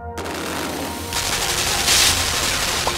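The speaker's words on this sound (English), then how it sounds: "They're guns." Automatic gunfire from the dark side-scrolling game Limbo, a dense burst of rapid shots that swells loudly after a brief quiet opening and continues steadily with no voices.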